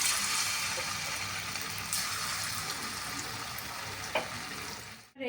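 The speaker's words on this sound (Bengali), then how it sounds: "এবার এই কোপ্তাগুলোকে ভাজবো।" Banana blossom koftas fry in hot oil, a steady soft sizzle with a few brief clinks and spatters before the sound cuts off abruptly near the end.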